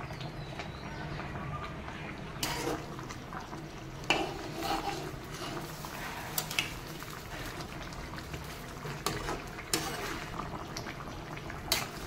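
Curry gravy with jackfruit dhoka dumplings bubbling in a pot, a soft continuous boil at low level with a few louder knocks and clatters of cookware, no voices.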